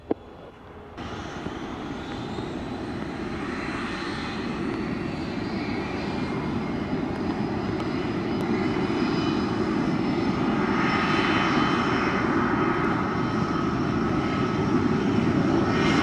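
An airplane takes off from a wet runway at Montego Bay airport in Jamaica, its engine roar building steadily and staying loud and close throughout, with no talk over it.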